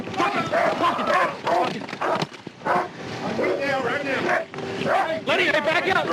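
A police K9 dog yips and barks in repeated bursts during a chaotic struggle beside a car, largely under frantic, overlapping shouting from officers.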